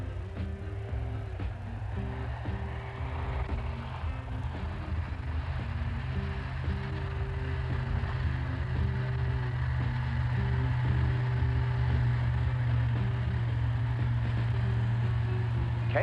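A 1983 Chevy K-Blazer with the optional 6.2-liter diesel and automatic transmission climbs a hill, its engine a steady low drone with a rhythmic throb that swells slightly toward the end.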